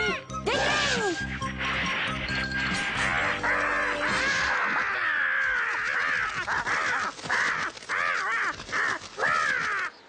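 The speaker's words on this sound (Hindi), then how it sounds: "वही कौवा है ना जो तुम्हें काफी देर से परेशान कर रहा था?" Repeated harsh cawing from a crow in the Ninja Hattori cartoon, loud and close, in a rapid series of calls with cartoon music and effects underneath.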